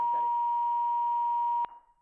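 A phone line beep as a caller's connection drops during a radio phone-in: one steady, clear tone held for about one and a half seconds, then cut off with a click and a faint tail.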